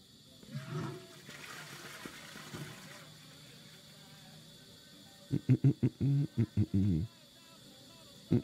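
A toilet flushes in the video game Mafia 2 with a soft rushing of water, followed by a burst of loud, choppy pulses near the end.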